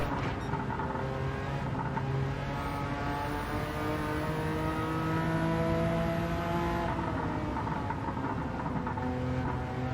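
A Porsche race car in Gran Turismo 7 accelerates hard on the Nurburgring, its engine droning loud and steady with rising harmonic tones and a brief high whine partway through.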